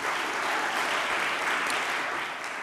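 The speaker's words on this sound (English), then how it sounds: "If you want to give them a round of applause." Steady, dense audience applause at a national learning network summit, loud and continuous for the whole stretch with no talk over it.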